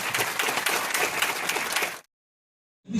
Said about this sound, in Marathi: त्यामुळे बोरकर सरांसाठी देखील जोरदार टाळ्या झाल्या पाहिजे.